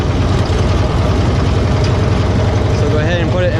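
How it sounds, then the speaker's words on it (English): A Cushman Truckster utility vehicle with a loud drive shaft that has few flex plates, its engine droning steadily in a low rhythmic rumble throughout, with a person talking over it. "You can hear the drive shaft because it doesn't have many flex plates in it, so it's kind of loud."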